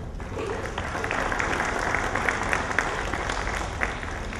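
A round of applause from an audience at the launch of an alternative securities market, steady and fairly loud dense clapping throughout with no talk.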